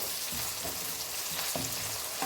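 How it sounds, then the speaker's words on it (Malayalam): Chopped ginger, garlic and green chilli frying in a hot pan, a steady close sizzle with soft stirring scrapes repeating at a loose rhythm, no voices. "അപ്പോൾ നമ്മൾ ഇഞ്ചി വെളുത്തുള്ളി അരിഞ്ഞതിട്ടു പിന്നെ എന്താ പച്ചമുളക് ഇട്ടു"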